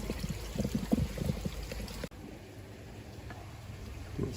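Water from a pond filter pipe pours back into a pond, a soft, close trickling splash that runs steadily for about two seconds, then fades to a faint background flow.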